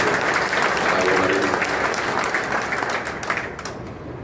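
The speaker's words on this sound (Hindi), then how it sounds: "एक बार अपने दोनों भुजाओं को उठाइए और जोरदार ताली बजा करके इनका अभिनंदन" Audience at a political gathering applauding loudly and steadily, dense clapping that fills the whole stretch and thins slightly toward the end.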